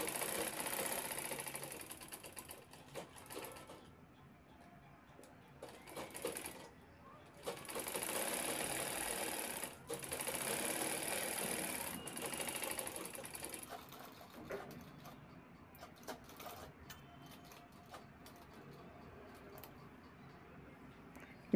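A home sewing machine stitches a zipper bag made from old clothes in several close, whirring runs of fast needle strokes broken by brief pauses and handling noises, with a voice quietly in the background.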